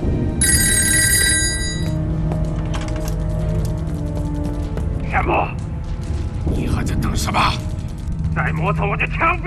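A telephone bell rings in a Japanese army company headquarters in a wartime kung fu drama: one short, bright burst near the start, followed by voices talking over loud crashes and impacts.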